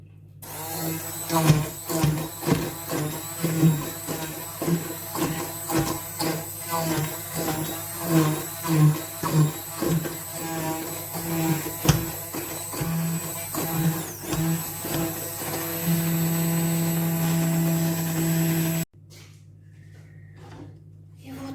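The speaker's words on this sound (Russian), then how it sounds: "Теперь я их разобью блендером." A blender purees boiled vegetables for soup in a home kitchen, revving in repeated pulsing bursts before holding a steady, loud whir that cuts off abruptly, followed by faint quiet.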